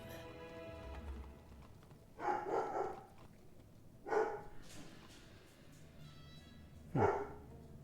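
A dog moves around and barks in three short bursts, separated by pauses, heard indoors at moderate distance over a low background hum.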